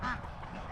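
Ducks in a backyard poultry flock give a brief, faint honking quack at a distance over soft ambient noise, with no talking.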